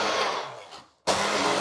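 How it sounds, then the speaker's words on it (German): An electric blender whirs loudly as it chops pesto ingredients with olive oil. The steady motor roar fades and cuts out for a moment, then restarts abruptly at full strength. "Und dann mit dem Mixer zerkleinern."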